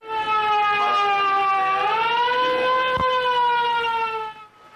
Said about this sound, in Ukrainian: Для сповіщення повітряної тривоги сирени вперше застосували лише під час Другої світової